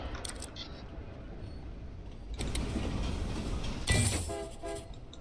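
Trains run on a busy main loop in the Railgrade video game, with a low rolling rumble, short horn toots near the start, a louder surge midway and a brighter blast with whistling tones toward the end.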